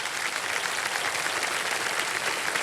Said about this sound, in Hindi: बहुत बहुत बधाई, तालियां बजती रहे इनके लिए